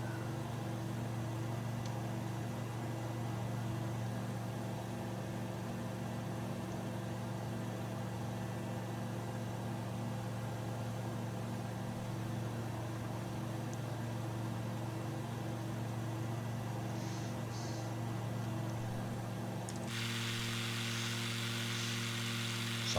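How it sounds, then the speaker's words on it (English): Icon A5 light aircraft engine in Microsoft Flight Simulator, a steady buzzing drone like a lawnmower running continuously and loud, with a brief change in tone near the end. "Sounds like a lawnmower engine, doesn't it?"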